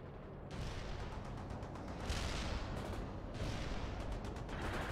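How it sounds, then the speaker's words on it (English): Airstrike explosions in the World in Conflict strategy video game: a dense rumbling barrage of booms and crackling blasts, continuous and fairly distant, with bursts swelling and fading, no voices. "Airstrike completed on the marked coordinates."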